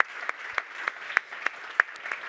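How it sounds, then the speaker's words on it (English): Sparse clapping at a Neos tech conference center stage, a handful of distinct, evenly spaced claps ringing out in a quiet hall rather than a full ovation. "So give a warm round of applause for Carsten."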